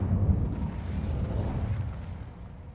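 Fire spell cast in a Harry Potter video game, heard as a loud, sustained low rumbling whoosh of flame with crackling bursts, fading slightly toward the end.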